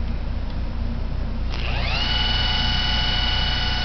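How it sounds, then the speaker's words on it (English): A General Electric Type SCR repulsion induction electric motor starts up partway through, a rising whine settling into a steady smooth hum with clear tonal overtones, close and running alone. "that is my Type SCR Repulsion Induction General Electric motor"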